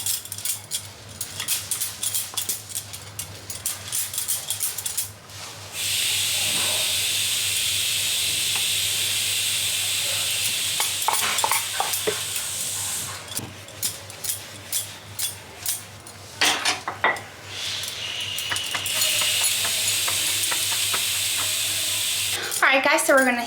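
Rolled whole wheat atta flatbread heating on a hot pan gives a steady, close hiss and sizzle with scattered light clicks and scrapes throughout.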